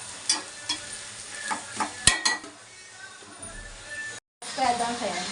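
Ivy gourd (dondakaya) cooks in a pan with a soft steady sizzle and a few sharp scrapes and clinks of a stirring utensil against the metal.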